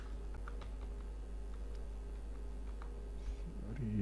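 Soft, scattered key clicks from a computer keyboard, irregular and close, over a low constant hum in a quiet room.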